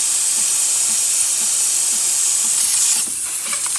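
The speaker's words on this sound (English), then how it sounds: "We're gonna have a nice steam delivery coming out through the one." The steam wand of a freshly serviced Breville Barista Express espresso machine gives a loud, steady, close hiss that stays constant and then eases slightly near the end.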